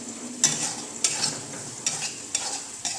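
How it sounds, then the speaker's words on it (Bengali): Semolina (suji) being stirred and fried in a pan, with five sharp spatula scrapes at regular intervals over a soft, continuous sizzle. "এভাবে ভালো করে নাড়াচাড়া করে সুজিটাকে ভেজে নিতে হবে।"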